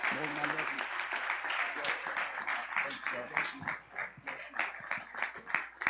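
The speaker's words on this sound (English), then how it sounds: "Let's continue to clap and magnify the Lord this morning." A church congregation claps along during worship, rhythmic clapping in a steady beat with voices and music-like tones running underneath, moderately loud and close.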